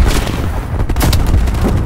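A frag grenade exploding in a video game, a loud booming blast with a rumbling, crackling tail that fills the short moment.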